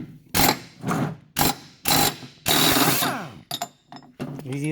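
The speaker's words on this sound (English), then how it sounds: "the nut is a 22 millimeter, and I'm using a impact wrench, so a lot easier that way" Impact wrench removing a 22 mm nut from a John Deere mower deck spindle: several loud, rattling hammering bursts of about half a second each, separated by short pauses, then a few shorter clattering bursts close by.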